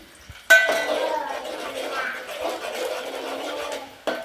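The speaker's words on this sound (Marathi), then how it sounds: "तर आपल्याला हा कांदा असं लाल होईपर्यंत परतून घ्यायचा आहे" Onion sautéing in a pan for a home chicken recipe, giving a moderate steady sizzle with light scraping after an initial clink, heard close up without speech.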